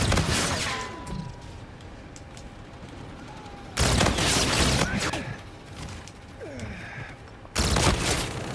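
Burst-fire weapon in Call of Duty: Infinite Warfare lets off two loud, dense volleys of rapid shots several seconds apart, with quieter in-game mechanical clicks and tones filling the gaps between them.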